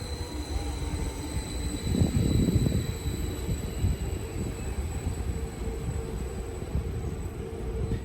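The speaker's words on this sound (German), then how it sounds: "Wieder fährt ein Metropolexpress auf Gleis 3 ein." A Metropolexpress train pulls into track 3 at Amstetten station on the Geislinger Steige, making a steady heavy rail rumble with high whining tones. The noise swells briefly and grows louder for a moment before settling back to a constant roll.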